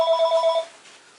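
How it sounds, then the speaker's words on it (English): Telephone ringing in a treatment room, a short burst of rapid warbling electronic ring that fades out within a second, clear and alone. "I'm going to ignore that phone call."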